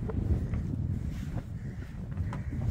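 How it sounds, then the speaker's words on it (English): Strong, cold gusting wind buffets the microphone on a foggy mountain top in northern New Hampshire in a continuous low roar with no voices. "it is pretty cold and windy up here"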